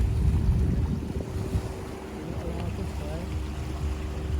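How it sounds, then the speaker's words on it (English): Sea waves wash onto a beach at Hon Tam Island near Nha Trang, Vietnam, a steady close surf roar mixed with wind buffeting the microphone throughout. "we might have to cross via the beach, but the sea has come up"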